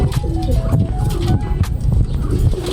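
Racing pigeons from Calapan, Mindoro, arriving in a derby lap, cooing and shuffling loudly and close, with soft repeated calls over a busy background of movement and occasional voices.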